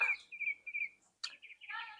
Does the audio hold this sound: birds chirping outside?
yes